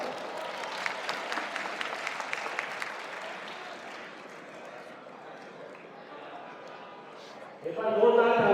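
Audience applause welcoming actor Anil Kapoor at a mushaira event, moderately faint crowd clapping mixed with someone talking over it, easing off midway before a louder burst of voices near the end.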